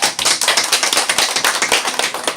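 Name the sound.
congregation applause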